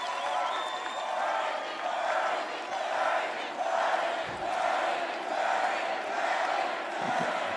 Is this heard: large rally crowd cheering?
yes